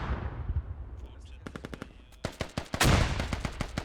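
Grenade throw and blast in a military shooter game, a heavy burst landing near the end amid rapid repeated gunfire cracks and distant combat noise, loud and busy throughout.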